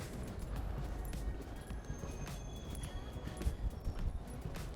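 A cantering horse during a riding lesson in an arena, soft repeated hoofbeats thudding at moderate distance over a low, muffled background.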